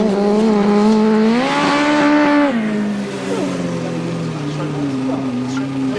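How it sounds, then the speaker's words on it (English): 1000cc sidecar outfits race on a grasstrack, engines roaring loud and steady with a rising then falling pitch as machines pass close, followed by a lower continuing drone of engines farther around the course. "Another heat of the 1000cc Sidecars"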